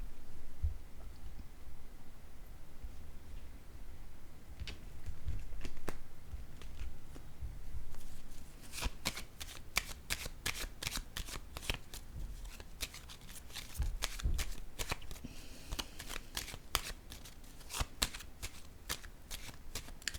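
Tarot cards handled at close range: a softer rustle of shuffling first, then a rapid run of sharp riffling flicks and slaps as the deck is shuffled and cards are laid down, no speech.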